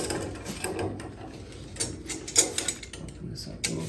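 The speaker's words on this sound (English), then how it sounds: "So I'm holding back with the bigger wrench." Wrenches work a tight pipe fitting on a leaking home boiler, producing close metallic clicks, creaks and scraping knocks in uneven bursts, one sharper clank near the middle.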